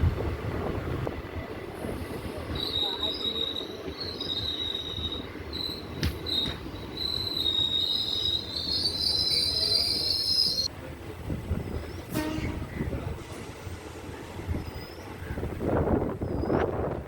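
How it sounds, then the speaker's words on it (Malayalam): A Kayamkulam–Ernakulam passenger train rolls into Alappuzha station, its wheels rumbling steadily and squealing in high sustained tones. Insects chirp faintly in the background and no one speaks. "Alappuzha railway station platform number 1 train അങ്ങനെ എത്തിക്കൊണ്ടിരിക്കുകയാണ്. കായംകുളം എറണാകുളം പാസഞ്ചർ."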